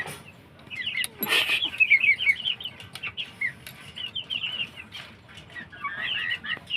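Chicks of Aseel fowl chirp in rapid, high overlapping peeps, fairly close and loud, with brief bursts of scuffling or wing flutters among them.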